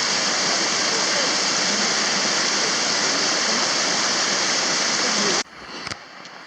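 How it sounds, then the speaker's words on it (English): A mountain stream on the Tour du Mont Blanc hike in the Alps rushes in a dense, steady roar for several seconds, loud and close, then cuts abruptly to a quieter background with faint knocks. "You think you're going to make it across that river, Patty?"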